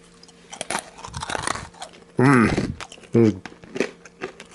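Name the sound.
chewing Chiclets chewing gum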